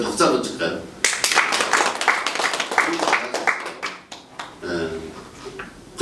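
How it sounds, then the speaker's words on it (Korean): A church congregation at a Sunday communion service claps briefly, a burst of hand claps mixed with a voice speaking over and around it, fading out before talk resumes alone. "그냥 박수 한번 칠까요?"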